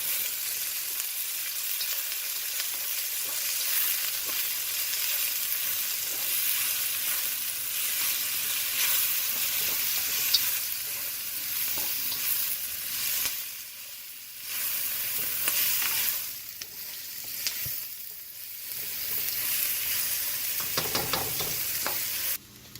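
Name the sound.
vegetables frying in a wok with olive oil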